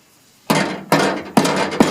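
A chisel hammered against a rusted lip on a 1956 Ford Fairlane door, four loud sharp metallic strikes in a steady rhythm, each ringing briefly before the next, close up.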